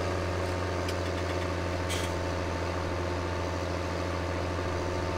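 A John Deere tractor of a little over 200 horsepower idles in Farming Simulator 17, giving a steady, even diesel drone with no other sounds.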